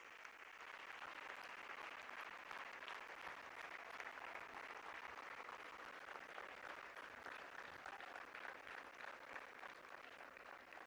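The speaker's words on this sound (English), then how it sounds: "with a thunderous round of applause" A large audience at a global Ayush investment and innovation summit gives Prime Minister Narendra Modi a thunderous round of applause, a continuous dense clapping that holds for the full stretch without speech.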